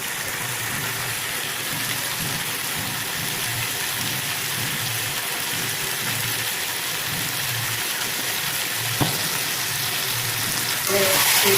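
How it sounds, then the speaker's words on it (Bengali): Marinated meat sautéing in a pan, a steady close sizzle and crackle that runs evenly throughout, with a brief sharp knock near the end. "সব ভালো করে কষাবো"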